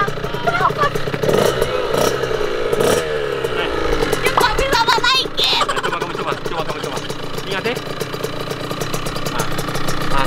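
Motorcycle engine idles and revs in bursts with clattering mechanical noise, close by, while people talk over it.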